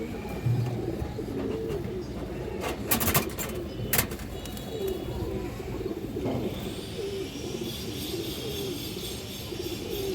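Pigeons at a pigeon farm coo in low repeated calls, with several birds nearby and some sharp clicks and fluttering mixed in, no talking.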